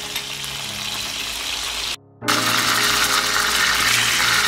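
Wors sausage frying in a pan, a steady close sizzle and crackle that cuts out briefly for a moment before resuming just as loud.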